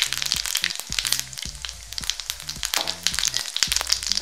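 Cumin and mustard seeds sizzling and popping in hot oil over a lowered gas flame, a dense crackle of rapid pops close by, steady and fairly loud throughout.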